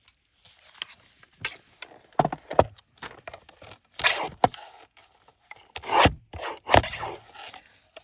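Paper being trimmed to fit a journal page, close-up: scattered crisp snips, rustles and scraping bursts at an irregular pace, with quiet gaps between cuts.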